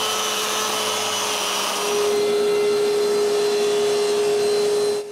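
Glued wooden panels are sanded with a power sander, a loud, steady whine with a constant hum that rises slightly partway through and cuts off near the end.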